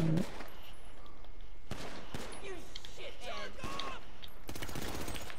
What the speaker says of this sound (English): Oh, they shooting, okay.